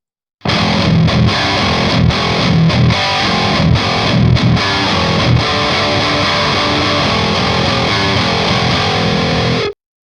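An LTD SC-608B electric guitar with heavy distortion, played in pickup position 5, gives loud, dense riffing. Sharp palm-muted chugs and brief stops break up the playing, which runs for about nine seconds before cutting out.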